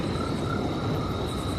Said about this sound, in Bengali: ঝিঝির ডাক, ব্যাঙের শব্দ,